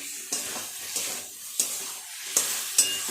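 Potatoes fry with spices for a katla fish curry, a soft sizzle broken by five sharp scraping stirs of a spoon against the pan at uneven intervals.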